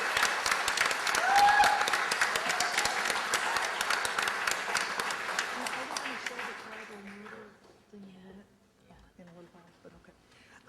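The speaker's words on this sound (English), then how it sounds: "So let's give a big round of applause for Julian Assange" An audience at a whistleblower conference panel claps loudly, with whoops and cheers mixed in, then the applause thins out and fades away as a voice begins to speak.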